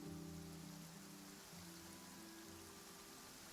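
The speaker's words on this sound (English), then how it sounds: "Oh no, it's raining." Rain patters steadily in a video game, a soft, even wash of drops on a surface with low tonal game music underneath, quiet and continuous.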